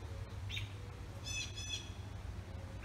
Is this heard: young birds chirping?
yes